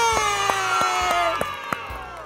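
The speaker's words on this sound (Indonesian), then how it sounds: "Tepuk tangan bilang ye." Children at a storytelling session cheer and shout together in a noisy, excited crowd, with sharp individual claps or hits standing out now and then across a couple of seconds.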